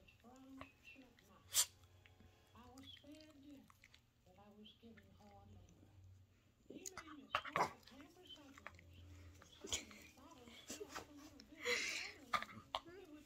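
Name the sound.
dog begging for pizza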